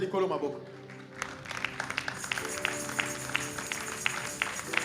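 A church congregation bursts into applause after a brief lead-in of voice and tones, with scattered rhythmic claps continuing steadily under what sounds like music.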